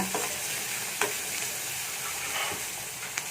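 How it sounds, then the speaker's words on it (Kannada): Hyacinth beans (avarekai) fry with turmeric and salt in a pan, a dense continuous sizzle broken by a few sharp stirring clicks and scrapes of the spatula, close and fairly loud, with no voices. "ಅರಿಶಿಣ ಉಪ್ಪು ಹಾಕಿದರೆ ಸ್ವಲ್ಪ ಕೆಂಪು ಕಲರ್ ಬರೋಗಂಟ ಹುರ್ಕೋಬೇಕಿದು"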